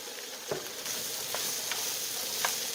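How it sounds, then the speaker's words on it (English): Jalapeno peppers and green beans sauté in a pan for a chicken spaghetti stir fry, giving a steady close sizzle with a few light clicks of stirring, with no talk. "And I'll continue to saute this for another 2 minutes."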